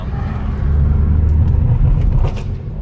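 A car with a BMW N55 engine fitted with a big turbo kit runs steadily nearby, a continuous low rumbling drone with no clear revs, holding level throughout.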